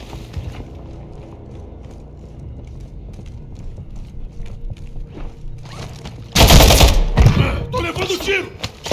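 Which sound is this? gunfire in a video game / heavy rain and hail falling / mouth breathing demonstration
gunfire in a video game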